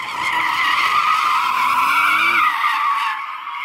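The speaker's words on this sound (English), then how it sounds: "I think we should warm up our tyres," Porsche Turbo S spinning its tyres in place to warm them before a drag race against a Suzuki Hayabusa: a loud, sustained rubber squeal over engine drone that fades toward the end.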